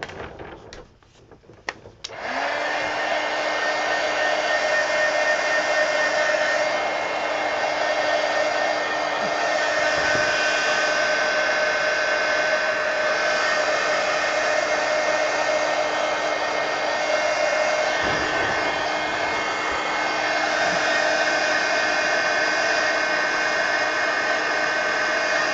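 A hair dryer blows on a drawing in a steady, loud continuous whir that runs nearly the whole time after a few brief clicks and handling noises at the start.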